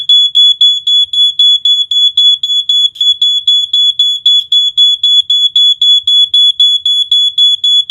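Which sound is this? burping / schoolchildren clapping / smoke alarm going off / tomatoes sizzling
smoke alarm going off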